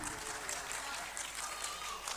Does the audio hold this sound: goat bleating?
no